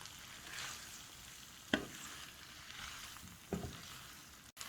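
Spaghetti frying and stirred in a pan with chili and garlic juices for an Ivorian-style beef kidney dish: a steady close sizzle with two sharp stirring knocks against the pan, no talking.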